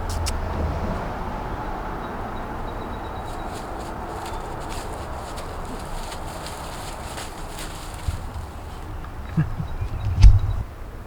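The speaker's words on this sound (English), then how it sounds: "So sorry about the car noise" Car traffic passes beside a fishing spot, a low steady road rumble through most of the clip with a few sharper knocks and thumps near the end, moderately distant.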